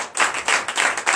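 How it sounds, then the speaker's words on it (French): A prayer-service congregation claps in quick uneven bursts, several rounds of hand claps rising and falling over about a second, close and fairly loud with no speech. "Donnez l'acclamation."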